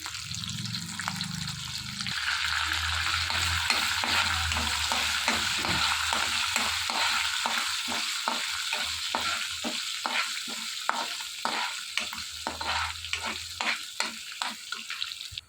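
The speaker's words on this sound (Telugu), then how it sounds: "వేడెక్కిన ఈ ఆయిల్లో ఎల్లుల్లిపాయలు జీలకర్ర ఎండుమిర్చి కరివేపాకు మొత్తం వేసుకుని ఫ్రై చేసుకోవాలి." Garlic, cumin, dry chillies and curry leaves fry in hot oil with a dense, loud sizzle, then a run of rhythmic scraping stirs sets in and grows more pronounced toward the end.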